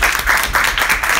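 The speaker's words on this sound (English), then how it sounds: "you can hear them clap too" An audience claps at the end of a talk, a steady dense patter of many hands that carries through the whole brief moment with no pause.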